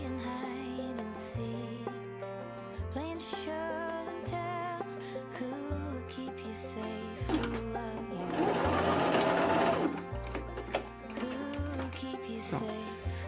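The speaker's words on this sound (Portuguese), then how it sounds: "agora eu vou juntar as 2 partes que estão abertas e vou costurar de um lado até o outro" Sewing machine stitching together two open fabric pieces of a jumpsuit, running in steady bursts that start and stop, with a denser, louder stretch of stitching midway and no voices.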